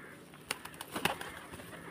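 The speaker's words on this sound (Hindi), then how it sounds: "ये हमारे कबूतर हैं, हम कबूतरों को दाना डाल रहे हैं।" Pigeons being fed grain give soft cooing calls with a few quick flutters of wings, brief bursts scattered over a faint background.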